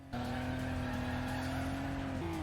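A car drifting in the open-world racing game City Racer, a sustained steady tire squeal over a droning engine, starting abruptly and holding level before a slight pitch change at the end.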